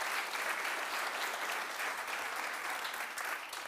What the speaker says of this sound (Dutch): Mag ik nog een applaus voor Linda?